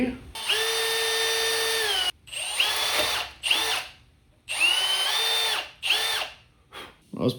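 A power drill bores a hole in a reel mower part, running in several bursts of whining revving that start, hold and stop, with short pauses between them, close and fairly loud.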